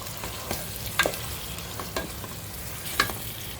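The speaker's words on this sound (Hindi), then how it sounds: "अभी इसमें अदरक लहसुन डालेंगे और अदरक लहसुन की कच्ची स्मेल जाने तक भूनेंगे" Ginger and garlic frying in a pan for Lucknowi mutton pulao, a soft continuous sizzle broken by a few sharp clicks and scrapes of a stirring spoon against the pan.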